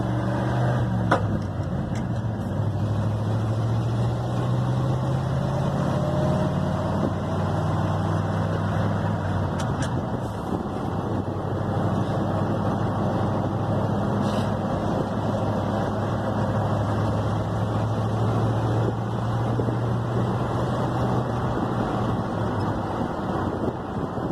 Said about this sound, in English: Drive down this last little stretch here to the stop sign and then I'll shut this off